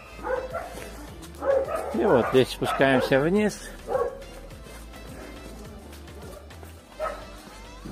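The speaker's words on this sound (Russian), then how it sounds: "Там собачки гавкают." Dogs bark from neighbouring villas on a hillside in Turkey, a cluster of yelping, whining barks at moderate distance, with someone speaking over the scene in between.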